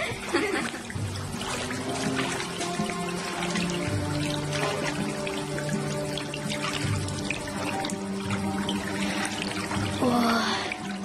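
Water runs steadily while plants are being watered, a continuous near splashing stream lasting throughout, with faint voices talking underneath.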